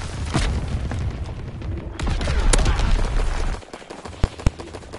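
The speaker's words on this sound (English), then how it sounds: "Enemy mortar fire, incoming." Enemy mortar fire in a WW2 shooter game rumbles as loud, heavy blasts that roll together for several seconds, then drop off into near quiet broken by two sharp, isolated cracks.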